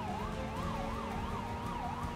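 Car siren in a Roblox game, wailing up and down in a steady, repeating rise and fall, loud and continuous with no talk.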